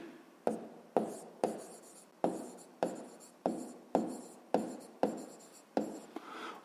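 Pen strokes on paper while a maths exercise is worked out, close and crisp, a series of about a dozen short scratchy strokes in a steady rhythm, each fading quickly, with no talking.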